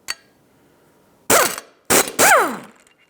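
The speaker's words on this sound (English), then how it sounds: "14mm socket. Take those nuts off." A 14mm socket on a ratchet loosens nuts from the front lower control arm bracket of a 1997-2001 Lexus ES 300, with a single faint click followed by three loud, close bursts of ratcheting with no talk.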